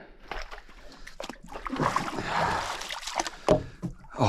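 Someone at a water tank campsite splashes into the water for a swim, with a cluster of close, sloshing splashes and brief bursts of churning water in quick succession.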